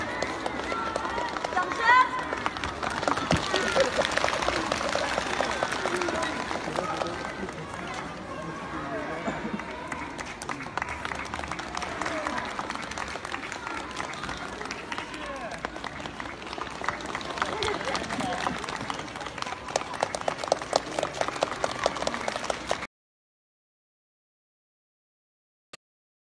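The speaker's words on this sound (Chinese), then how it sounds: "掌声！" Applause from a crowd at a figure skating gala, heavy and sustained for over twenty seconds, with voices talking over the clapping before it cuts off.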